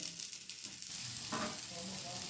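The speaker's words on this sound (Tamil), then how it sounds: "எண்ணெய் விட்டு இதை மூடி போட்டு மூடி வேக விடணும்." Dosa frying in oil inside a covered pan, giving a steady close sizzle and crackle throughout with no talk.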